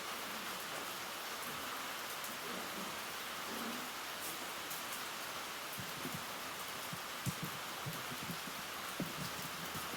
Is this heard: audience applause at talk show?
no